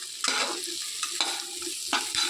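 A pointed gourd (potol) dish being stirred in an oily pan on the stove, a spoon scraping through it in several distinct strokes over a soft, steady sizzle, close and fairly quiet.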